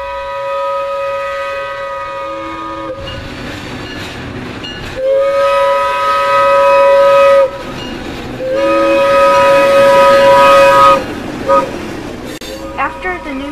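Historic Alco FPA diesel locomotive hauling a train on the former Erie main line in western New York, with a sustained engine drone and rail rumble as the horn sounds in long blasts, fairly close and loud.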